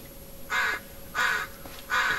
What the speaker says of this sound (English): That's an angry crow.